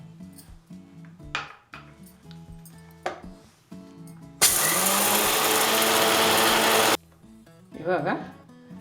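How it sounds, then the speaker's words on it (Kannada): A mixer grinder roars loudly for a couple of seconds while powdering ingredients, bracketed by clinks and knocks of a jar and lid, with brief talk before and after. "ನಾವು ಇದೆಲ್ಲ ಪುಡಿ ಮಾಡಿಟ್ಕೊಂತ ಇದ್ದೀನಿ"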